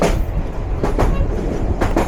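The Sindhu Prabhati passenger train runs on the rails just outside Kishoreganj railway station, with a loud, close, steady rumble and rhythmic wheel clatter and no voices.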